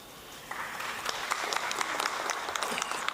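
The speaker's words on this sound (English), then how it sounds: "I think the colleagues deserve a round of applause." A room of councillors at a Durban ICC council meeting bursts into applause, a dense, fairly loud patter of many clapping hands that starts abruptly and holds steady.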